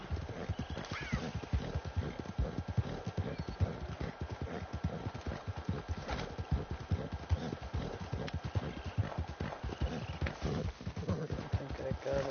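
Horse hooves clip-clop steadily in Red Dead Redemption 2, a fast continuous rhythm of close, distinct hoofbeats with an occasional neigh, running under game ambience and some talking.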